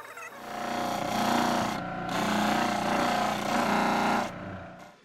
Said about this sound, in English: We'll cut it out of the bandsaw right on that line.